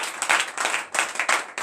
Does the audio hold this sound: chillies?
no